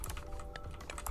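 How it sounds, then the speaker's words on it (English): Typing on a Redragon K630 mechanical keyboard with hot-swappable switches: a quick run of soft, close key clicks over about a second, fairly quiet against a light background hiss. "I believe this is a mechanical keyboard."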